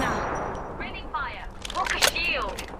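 Rapid bursts of gunfire ring out in Apex Legends, sharp cracking shots clustered near the end, while a player talks excitedly over them.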